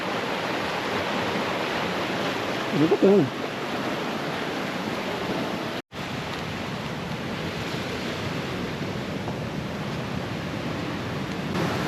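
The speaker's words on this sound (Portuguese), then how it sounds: "Tá caindo uma quedinha d'água aí também." Small waterfall in a forest stream near Viana do Castelo, Portugal, a steady close rush of falling water throughout, with a brief spoken remark early on and a momentary dropout midway.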